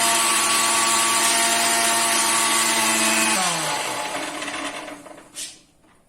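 A kitchen mixer grinder whirs loudly and steadily while blending ginger and orange into juice, then its motor winds down and stops, followed by a brief clink of the lid or jar.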